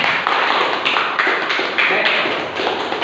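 Classroom applause from a group of students, dense continuous clapping at close range, loud and steady for about three seconds with no talk over it.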